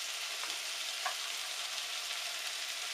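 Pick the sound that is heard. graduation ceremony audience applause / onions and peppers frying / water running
onions and peppers frying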